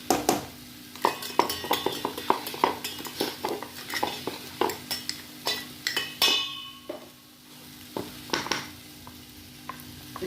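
Prawn fry sizzles in a pan as a ground powder of mustard seeds, fenugreek, coriander seeds and garlic is mixed in: a steady close sizzle with rapid spoon scrapes and clinks against the pan, pausing briefly near the end.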